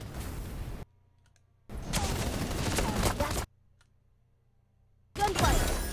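Gunfire in the Super Mecha Champion video game comes in dense bursts of rapid shots broken by abrupt near-silent gaps, with clicking mixed in, loud and close.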